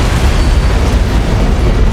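Antimatter charge detonating aboard a spaceship in Halo CE Anniversary: a loud, dense, rumbling roar that sustains continuously with a heavy low-end, no pauses or speech.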